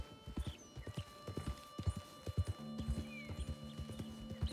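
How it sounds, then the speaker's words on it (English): Horse hooves in Red Dead Redemption 2 clop in a steady, rhythmic trot, loud and close, with a faint whinny and no talk over them. "Get a hold of that horse, Arthur."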